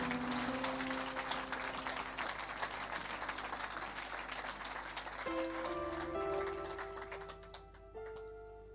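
Dense, steady applause from a church congregation fills the space for several seconds, with sustained tones from instruments or singing running underneath and a few tonal shifts partway through.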